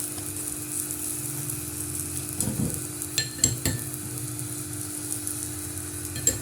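Aloo paratha sizzles softly in ghee on a pan, a low steady frying hiss broken by a few sharp clinks and scrapes of a spoon, close by and with no talking.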